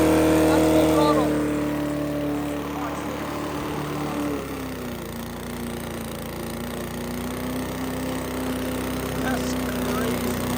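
A lawnmower engine runs steadily near full throttle and bogs down, its tone sagging and dropping pitch partway through before holding a lower, labored drone, loud and close.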